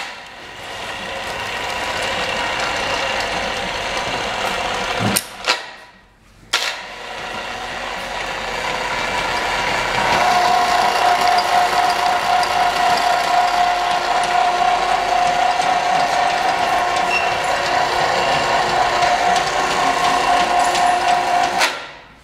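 CM Lodestar 1-ton electric chain hoist with 635 trolley lifting a welder, a steady mechanical ratcheting whir of chain and gears running continuously at close range, broken by a couple of brief pauses before resuming.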